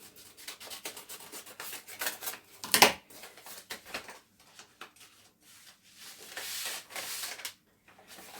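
Rough scraping and rubbing of plastic wrap being cut open on a delivered package, with rustling bursts and one sharper crinkly snap near the middle, fairly close.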